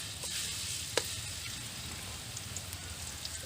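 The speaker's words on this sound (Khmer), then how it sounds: "ដាក់បំពងខ្ទឹមសហើយ" Garlic frying in hot oil for a Cambodian ginger and pork rib stir-fry, a steady, fairly faint crackling sizzle with a few small pops and spits, no talking.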